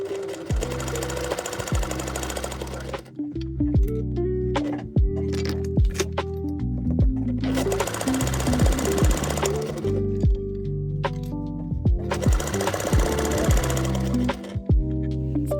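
A sewing machine stitches a summer top in rapid mechanical bursts, running in several long runs separated by short pauses and brief clicks as the fabric is turned, loud and close.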